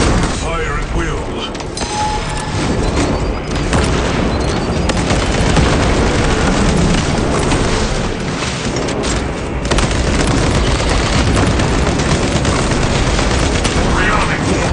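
Heavy battle in a Warhammer 40K game: loud, relentless gunfire and booming explosions fill the scene continuously, with voices shouting orders beneath the din.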